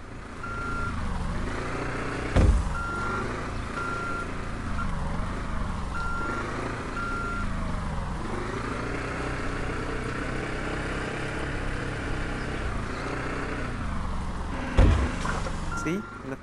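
Forklift reversing beeps from the video game Sneaky Sasquatch, a steady repeating electronic tone over a continuous engine drone, with a couple of sharp knocks.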